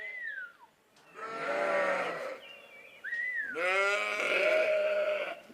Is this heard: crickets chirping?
no